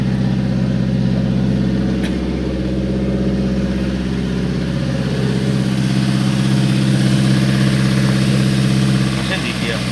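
A car engine idles steadily during an engine check, with a constant low, even hum throughout and no revving.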